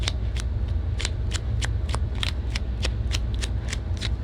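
Tarot cards riffled and drawn during a daily reading, a steady run of crisp snapping flicks over a low constant hum, close and moderately loud with no talking.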